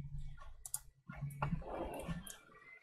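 A computer mouse and keyboard give faint, sparse clicks and taps at a desk, scattered unevenly across a quiet room.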